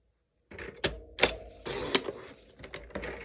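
A paper trimmer slices through white cardstock with a few sharp, close cutting strokes and clunks from the blade and guide, in a quiet crafting space with no talking.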